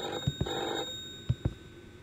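A telephone rings in a horror video game, sounding two quick pairs of short, sharp bell-like rings separated by a pause, faint and set against a dim background hum.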